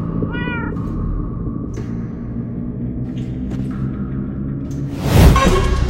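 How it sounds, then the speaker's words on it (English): A cat meows clearly near the start, followed by fainter sounds and a low rumbling whoosh toward the end. "Cats?"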